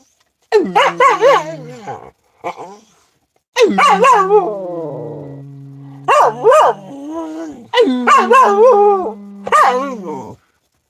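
A dog howls and yips in long, wavering, drawn-out bursts separated by short pauses, loud and close, while a man howls along in imitation.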